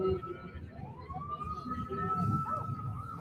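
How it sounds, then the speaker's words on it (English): An emergency siren wails steadily in the distance at a Christmas parade in Gallatin, its pitch sweeping and holding, with crowd murmur and a faint voice underneath. "we're hearing sirens, so they've got to be close"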